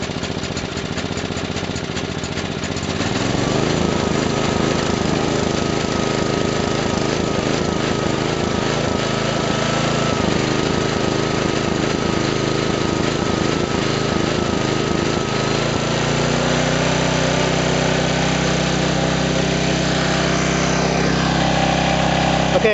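A flathead four-cycle engine catches after a pull start and runs steadily at a loud, rapid, buzzing idle that drops to a slightly lower, smoother pitch toward the end.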